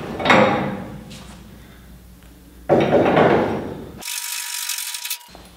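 A ratchet wrench loosens the control arm bolts on a 2JZ twin-turbo Datsun 240Z body mounted on a rotisserie. Close, loud bursts of ratcheting and metallic clanking are followed by a brief sharp, bright mechanical noise. There is no speech.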